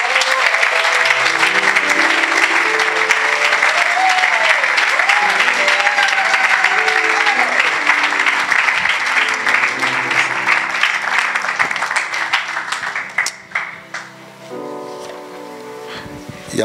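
A church congregation gives a long, dense round of applause for Jesus, loud and sustained, with a sung or shouted voice and musical tones running underneath before the clapping thins near the end.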